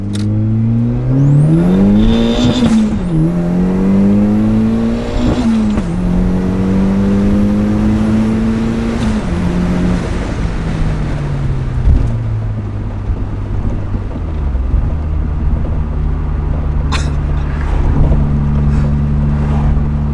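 A turbocharged NB Mazda Miata engine revs hard and climbs through gears, loud and close, with whooshing turbo whistles between shifts.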